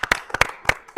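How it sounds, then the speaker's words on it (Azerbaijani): A few audience members clap at a podcast recording, sparse, separate hand claps at uneven intervals, close and sharp, over about a second with no talk. "Ona görə də yenə də TV-yə bir dənə qəşəng bir alqış istəyirəm"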